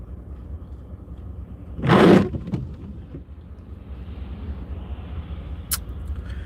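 Big truck rolling past a car on the road, a short loud whoosh of passing engine and tires rising and fading, followed by low steady road rumble.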